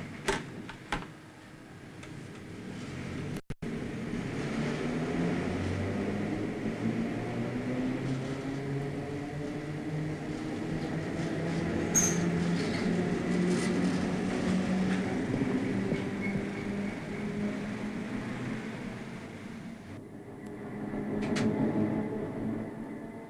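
A Berlin S-Bahn train in 1980s East Germany pulls away from a platform, a low rumbling hum and faint rhythmic clicks building steadily, with a sharp knock near the start and a soft rise in motor whine later.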